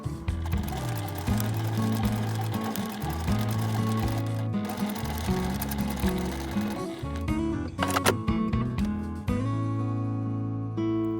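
A sewing machine runs steadily for about eleven seconds, stitching along the edge of a scrap-fabric tote bag, its motor whirring with rapid mechanical clatter and a brief pause near the end.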